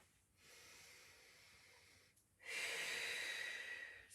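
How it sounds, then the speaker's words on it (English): Two long audible breaths taken close to the microphone during a Pilates level 1 exercise, a steady airy hiss followed by a stronger, louder exhale. "exhale as you come up."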